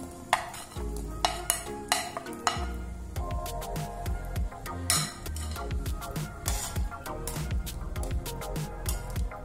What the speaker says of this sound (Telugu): ఇప్పుడు మనము ఈ బ్రెడ్ బాల్స్ అన్ని ఇందులోకి వేసేద్దాం